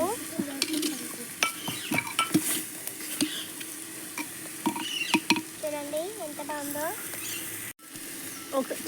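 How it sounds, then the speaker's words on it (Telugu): Chicken curry is stirred in a clay pot over heat, with repeated scraping and wet stirring sounds over a steady sizzle, and a person talks briefly in the background. "ఒకసారి మొత్తం మిక్స్ చేసుకుంటున్నాము"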